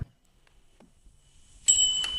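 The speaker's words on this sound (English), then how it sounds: "I'm going to ring it a lot, because it's a bronze bell" A bronze bell in an old abandoned mansion is struck once near the end, giving a bright metallic ring with a lingering tone after faint quiet handling sounds.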